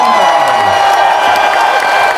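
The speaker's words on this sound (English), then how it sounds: "Round of applause!" A school celebration assembly audience of children applauds and cheers, a loud continuous wash of clapping with whoops and shouts mixed in.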